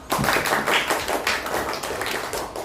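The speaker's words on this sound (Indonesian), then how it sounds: "tepuk tangan untuk semua" Classroom applause from students in a school lesson, a dense run of rapid hand claps at steady volume lasting the whole stretch.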